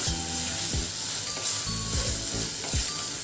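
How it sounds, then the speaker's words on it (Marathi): Ground masala paste for chicken curry sizzles and fries steadily in oil over medium heat, with repeated stirring scrapes against the pan every second or so, close and continuous with no talking. "आपल्याला हे वाटण छान परतून घ्यायचं आहे"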